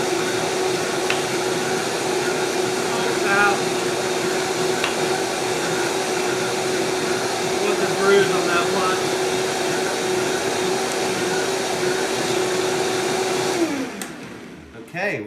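A blender whirs steadily at high speed blending an apple, raspberry and hemp smoothie for a long stretch, loud and close, then abruptly winds down and stops near the end.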